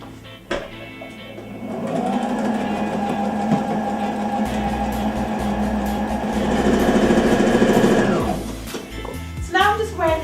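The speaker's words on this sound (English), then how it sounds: "I'm now going to sew the edge again" A sewing machine stitching the edge of a home-made dress, running steadily for about six seconds with a whirring, rhythmic hum before stopping, close by, with a short rustle of fabric at the end.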